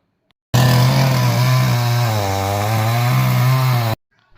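A chainsaw cuts down a Nilambur teak tree, its engine snarling loud and steady at close range for about three and a half seconds, the pitch dipping briefly as the chain bites into the wood.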